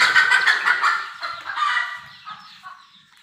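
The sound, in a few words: neighbor's chicken clucking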